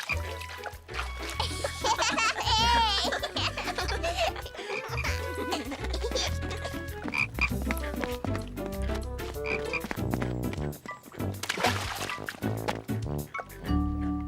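Frogs croak at a cartoon pond in a run of chirpy, rattling calls over background music, with bubbly trickling water and dripping mixed in.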